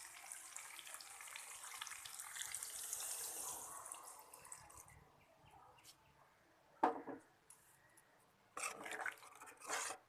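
Water pours into a cooking pan of sautéed drumsticks and potatoes for a Bengali fish curry, giving a steady splashing wash at first, then quieter, with a few short louder splashes near the end.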